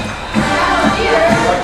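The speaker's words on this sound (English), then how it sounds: "The crowd is definitely getting pumped up for this match" Crowd at a Westlake high school football game against Avon Lake, a loud, dense wash of many voices cheering and shouting, with the student section among them, continuous throughout.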